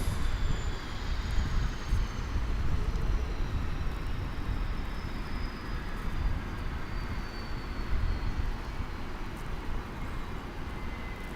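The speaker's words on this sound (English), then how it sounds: "Looks like we have an American Airlines Airbus A321 headed out to Los Angeles." An American Airlines Airbus A321 jet takes off from Dallas Fort Worth airport, heard as a steady, broad engine roar that holds throughout at a moderate distance, with a faint rising whine above it.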